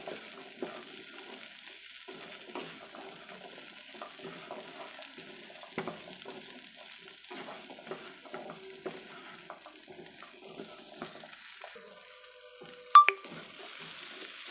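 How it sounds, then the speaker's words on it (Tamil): Chickpea sundal sautéed and stirred in a pan, a quiet continuous sizzle with soft scraping strokes throughout and one sharp clink of a utensil near the end. "எல்லா இடத்துலையும் படுற அளவுக்கு நம்ம நல்லா இதை வதக்கி எடுத்துக்கலாம்."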